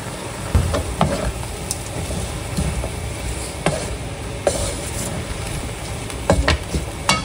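Banana blossom frying in a pan with pepper and salt, a steady soft sizzle with occasional stirring scrapes and clinks of a utensil against the pan, close and moderately loud, no talking.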